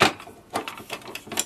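A sharp click at the start as a black ink cartridge locks into a Canon MG2500-series printer, then a few lighter plastic clicks and taps spaced out over a second and a half, close up and fairly quiet.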